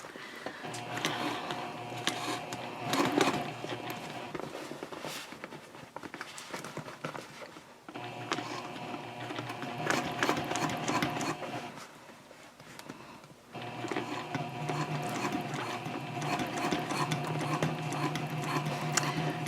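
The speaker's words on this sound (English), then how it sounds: "you're going to be sewing a 1/2 inch away from the edge" A sewing machine runs in long bursts stitching a messenger handbag, a dense mechanical whirring rattle that stops briefly twice before starting again, close and steady with no voice over it.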